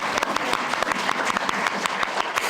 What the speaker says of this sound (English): So That deserves a round of applause right there.